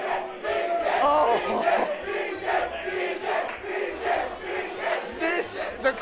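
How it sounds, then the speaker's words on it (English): A live crowd at a Smash Ultimate tournament roars and cheers with sustained collective shouting, loud and continuous with surging peaks throughout. "The crowd is loving it right now."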